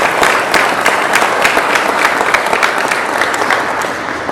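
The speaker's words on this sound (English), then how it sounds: "Please give him a round of applause." Steady audience applause during a military unit commander's call, a dense wash of clapping hands sustained evenly from start to finish with no voices over it.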